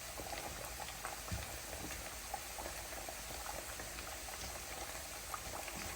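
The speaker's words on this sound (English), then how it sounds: "And you want your oil to be nice and hot when you're doing this" Plantain slices fry in hot oil in a pan for Jamaican pressed plantain, giving a steady, dense sizzle and crackle with faint popping throughout, close and continuous with no talking.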